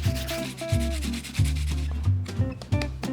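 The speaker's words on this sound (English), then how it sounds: "then you're going to grate the beetroot" Beetroot is rubbed against a grater in repeated rough, rasping strokes, loud and close, with no talk over it.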